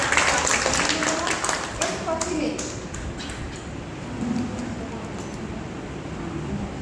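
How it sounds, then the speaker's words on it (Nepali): An audience at a civic forum applauds the university's former controller of examinations: a lively burst of clapping that tapers off over a few seconds, with voices continuing underneath. "उहाँलाई पनि एउटा जोरदार ताली"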